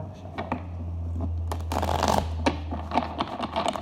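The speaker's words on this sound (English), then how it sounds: "One more deck, one more shuffle." Tarot cards are shuffled by hand in quick riffles and snaps, close and crisp, with a low steady hum in the background.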